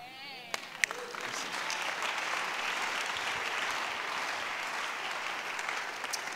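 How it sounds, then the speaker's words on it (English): A church congregation applauding, a steady wash of many hands clapping heard at a moderate distance and holding evenly throughout, after a few sharp isolated claps and a brief voice at the start. "The Lord bless the Christians who are clapping."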